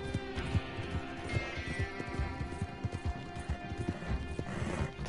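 Horse hooves clip-clopping in the video game Red Dead Online, a quick irregular galloping rhythm of thuds with a brief whinny, heard alone without talk.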